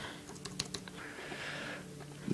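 Quick keystrokes on an Apple keyboard with rechargeable batteries: a short cluster of light clicks early on, then a softer pause and a few faint taps, quiet and close.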